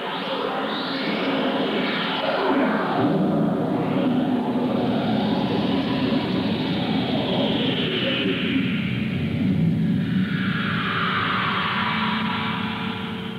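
A continuous swirling reversed synthesizer drone with sweeping, whooshing tones that rise and shift in pitch, steady and moderately loud throughout, with no voices.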